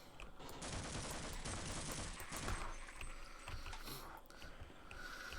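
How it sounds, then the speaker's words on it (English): Rapid machine-gun fire in the Half-Life mod Bridge the Gap 2.0, sustained bursts of dense shots with echoing impacts for several seconds, moderately loud with no talk. "maybe we'll use the machine gun"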